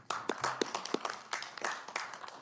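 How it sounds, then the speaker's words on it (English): A few people clap in scattered, uneven bursts in a Sacramento city council chamber right after a unanimous vote, sparse close claps rather than a full crowd, with faint murmuring underneath. "Here's the cheer."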